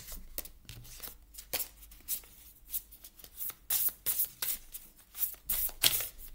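Tarot cards are shuffled by hand in quiet, close bursts of riffling and soft slapping, irregular and faint, with no voices.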